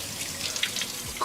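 Water from a kitchen tap runs steadily into a sink while hands are washed beneath it, a close, continuous hissing splash with small splatters.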